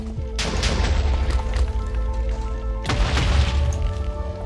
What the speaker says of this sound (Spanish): Aquí ha pasado algo, acaba de haber una explosión